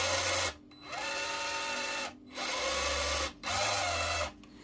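FCX24 RC crawler's small electric motor whining in alternating runs forward and reverse, three buzzing bursts with brief pauses between, close up and steady.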